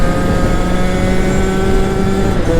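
A small 110cc motorcycle engine runs hard and close, a loud, buzzing drone held at high revs.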